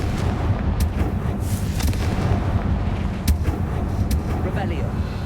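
Booming fire-spell blasts from a Hogwarts Legacy game crack and rumble amid continuous dense action noise, with several sharp bursts spread across the stretch and talk mixed in.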